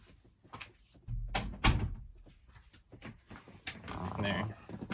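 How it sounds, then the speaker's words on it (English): A door is shut indoors with a soft thump and latch in the middle of the stretch, surrounded by rustling and handling noises, with a person talking before and after. "I'm gonna close the door."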